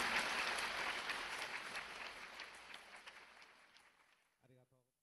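Lecture audience applause at a Saito Hitori disciple talk in Nagoya, a broad clapping that starts fairly full and gradually thins and fades, ending with a brief voice.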